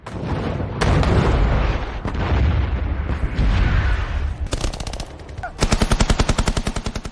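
Loud war gunfire on the Karelian Front: a dense roar of shots and blasts, ending in rapid, evenly spaced machine-gun bursts close by.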